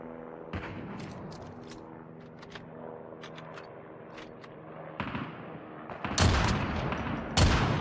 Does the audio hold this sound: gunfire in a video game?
yes